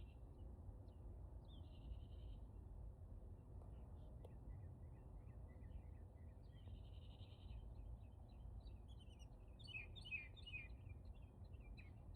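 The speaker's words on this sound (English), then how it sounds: "bird sounds so beautiful." Soft bird chirps and short tweets flit in and out over a steady low rumble, faint and somewhat distant.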